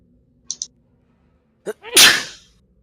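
One sharp sneeze bursts out loud and close after a short, quick intake of breath, preceded by a couple of faint clicks in a quiet room.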